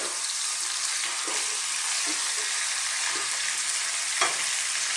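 Squid fries in a pan for crispy squid adobo, giving a loud, steady sizzle close up, with a few faint stirring knocks underneath and no voices.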